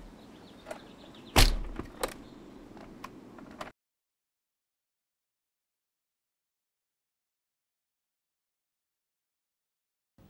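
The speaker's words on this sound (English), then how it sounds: "now we can just check the door and make sure that it's true and see if the locks work" A door fitted with newly installed Armor Concepts Door Armor is worked: a sharp thud and a couple of latch and lock clicks sound nearby, then everything falls silent.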